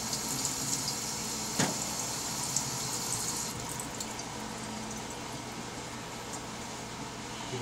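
Cool tap water runs steadily over a Bakelite AK rifle magazine during a rinse, a constant hissing splash with a brief sharper knock early on, close and alone.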